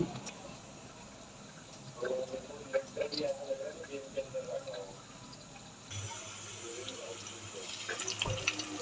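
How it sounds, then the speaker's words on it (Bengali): Water poured into a homemade egg curry mixture in a home kitchen: a soft, steady trickling and splashing. Faint at first, it grows fuller near the end, with low background noise. "আর দেব হচ্ছে জল পরিমাণ মতো"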